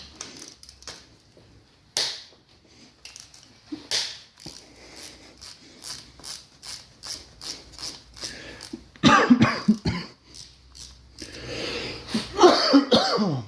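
Several sharp coughs ring out amid faint clicks and taps, building into a harsher, throaty coughing fit toward the end.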